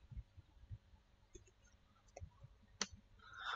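Faint, sparse keystroke clicks from a computer keyboard as router MPLS LDP interface settings are typed in, a few isolated taps scattered over low background hum.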